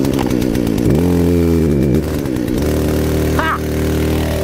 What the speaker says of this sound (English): chainsaws, you never know if they're gonna start or not